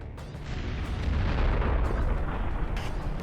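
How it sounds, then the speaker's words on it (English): A Stugna anti-tank missile striking the lead tank in a combat setting, heard as a heavy, sustained rumbling blast that swells and stays loud with rolling low-end roar and scattered crackles. "The first shot into the lead tank."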